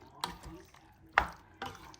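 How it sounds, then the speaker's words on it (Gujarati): A spoon scrapes through thick pasta sauce with vegetables in a pan, three distinct close stirring strokes with quiet gaps between them and no voices. "મસ્ત મિક્સ કરી લેવાનું છે."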